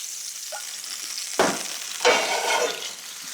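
Butter and oil sizzling in a pan, a steady close hiss with two brief louder crackling surges as things stir in the fat.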